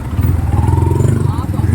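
A motorcycle engine rumbles close by as it passes along a narrow street near the Bulungan fish port off Macapagal Boulevard, with someone talking over it.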